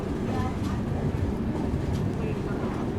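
An Indian Railways WAP4 electric locomotive of the Bhusawal shed with its train at the Gwalior Junction platform, giving a steady, loud rumble of rolling stock with faint voices underneath.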